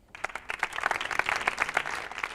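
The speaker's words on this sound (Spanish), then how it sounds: "Por favor, un aplauso para ella" Applause from a conference audience at a social innovation event, starting sparse and building into steady, fairly close clapping with distinct individual hand claps.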